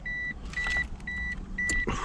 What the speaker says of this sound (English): I can hear the motors going already